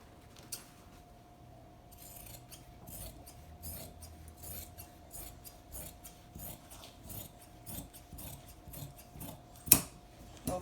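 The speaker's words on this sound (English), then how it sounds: "I'm gonna cut this out." Scissors cut through fabric for a dress in a rapid series of soft snipping strokes, close and fairly quiet, with a faint steady hum beneath and one sharper click near the end.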